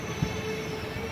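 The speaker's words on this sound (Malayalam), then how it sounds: "നെയ്യാറ്റിൻകര റെയിൽവേ സ്റ്റേഷനിലും നമ്മുടെ നാഗർകോവിൽ ജംഗ്ഷൻ എക്സ്പ്രസ് സ്പെഷ്യൽ എത്തിയിരിക്കുകയാണ്" A Nagercoil Junction Express special train pulls into Neyyattinkara railway station, a steady broadband rumble of wheels and rail noise with a faint squeal, heard up close with no talking.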